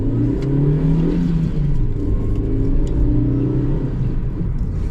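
A Nissan Micra K12 with a 1.2 engine revs as it accelerates. A steady, moderately loud engine drone rumbles throughout and rises gradually in pitch.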